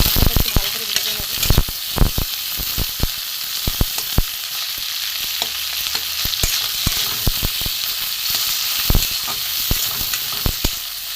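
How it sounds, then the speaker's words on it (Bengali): Chopped onion with panch phoron fries in a pan, making a close, loud, continuous sizzle broken by frequent sharp clicks and scrapes of stirring. "এখানে আমি কাটা পেঁয়াজ আছে দিয়ে দেবো। কালো জিরে আছে দিয়ে দেবো, না পাঁচ ফোড়ন, এটা ফোড়ন পেঁয়াজ আছে। একটু ভালো করে ভেজে নেবো।"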